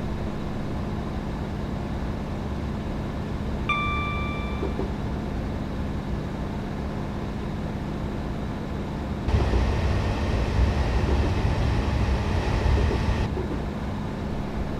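Class 156 diesel multiple unit in Train Simulator 2015 on the Carlisle to Dumfries route, a steady low rumble and engine drone from the cab, with a short tonal beep early on and a louder, rougher stretch of running later.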